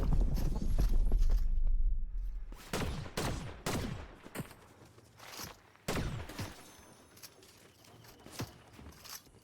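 Pistol shots in a video game, several sharp loud cracks around the three, four and six second marks, separated by quieter clattering game sounds and footstep-like noise.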